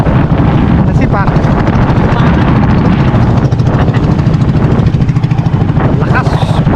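A loud boat engine droning like an outboard motor while repositioning a roro boat with a ballasted anchor, steady and close, with heavy wind buffeting and a voice talking over it.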